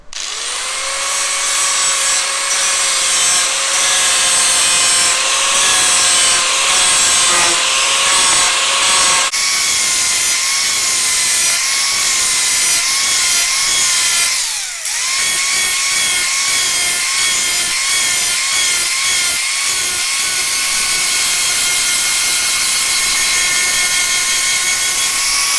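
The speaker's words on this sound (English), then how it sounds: "So once it's attacked with the grinder and you've got your grooves" A grinder cutting a groove along a crack in a plastic car bumper, a loud sustained whining tone with a shifting pitch, rough grinding texture and a short dip midway, close and continuous with no speech.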